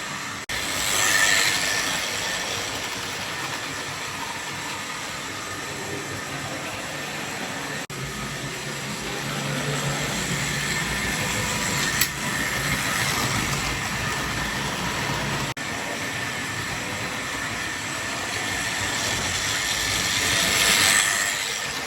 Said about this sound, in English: I can test it with a load